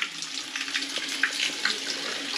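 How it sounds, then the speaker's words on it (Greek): Clean spring water runs from village taps near a church in the Tzoumerka mountains, a steady close splashing and trickling stream with no voices. "βρίσκονται και οι βρύσες με το καθαρό τζουμερκιώτικο νερό"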